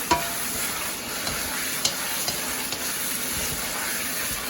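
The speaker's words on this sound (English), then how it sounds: "You pour your sauce in there. Ooh. And you want to stir quick." Beef fried noodles stir-fried at home with sauce poured in, a loud steady sizzle and hiss with quick stirring clacks of the utensil against the pan, close up and without talk.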